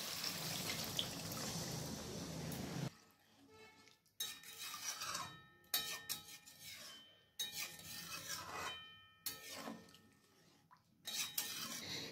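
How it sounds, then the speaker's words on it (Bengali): A spoon stirs potatoes and cauliflower with spices in a pan, making repeated close scraping and rubbing strokes that come in bursts with short pauses. A louder hissing wash at the start gives way to them. "এরপর এগুলোকে মশলার সঙ্গে ভালো করে মিশিয়ে নিচ্ছি"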